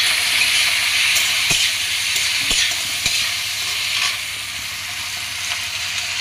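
Flat beans fry with spices in a pan under a loud, continuous hissing sizzle, with a few sharp utensil taps as they are stirred.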